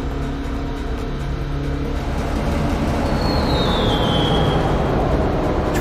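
A train rumbles past in the video game Need for Speed: Porsche Unleashed, a loud, steady roar with a rising wheel squeal, mixed with racing car engine noise throughout.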